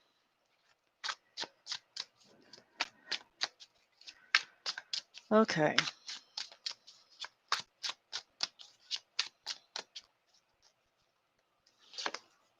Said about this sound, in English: We're going to shuffle those back in.